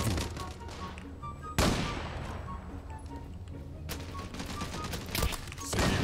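Gunfire in the Turkish war game Çanakkale Savaşı: a sudden loud shot bursts out, followed by further sharp reports and a rattling fusillade across the clip, with faint voices in the mix.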